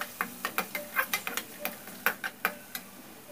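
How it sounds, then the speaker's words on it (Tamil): Vegetables being sautéed in a pan, with red cabbage about to join them: a dozen or so sharp ladle scrapes and taps in an uneven rhythm over a faint background sizzle, close and fairly quiet. "எல்லாத்தையும் நல்லா வதக்கி விடுங்க"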